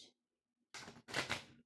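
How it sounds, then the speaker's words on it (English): Cards are shuffled in two quick bursts during a tarot-style reading, a dense papery riffle that starts after a short silence and then comes back louder, close up with no talking. "The sounds of shuffling."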